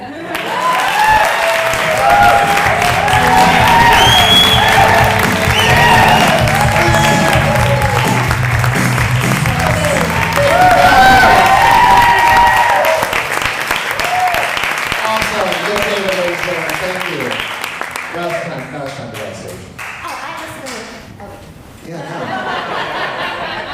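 Audience at a stand-up comedy show at a theatre applauding loudly and steadily, with some laughter mixed in, before the clapping thins out and fades near the end.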